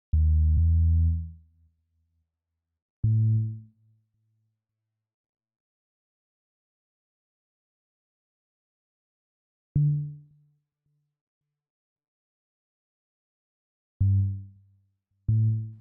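Wicked Sign bass preset from a Korg Triton Extreme synth, playing a few sparse, deep, smooth sine-like notes that swell and fade, separated by long silences.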